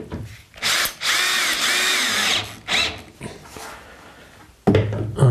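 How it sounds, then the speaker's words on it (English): A Bosch cordless drill drives screws into the wooden roof of a chicken coop in several bursts of whining, rising motor sound, with a short final burst after a pause. "And these I'm just going to screw in place."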